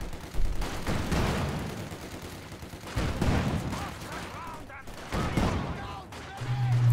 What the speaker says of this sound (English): Just hearing me try and shoot through the hedge